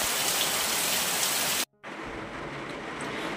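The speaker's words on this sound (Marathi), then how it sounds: "जोरदार पाऊस इथे सुरू झालेला आहे." Heavy rain pours down in Kankavli, a dense, loud, steady hiss of falling water that cuts out for a split second, then returns slightly softer and continues evenly.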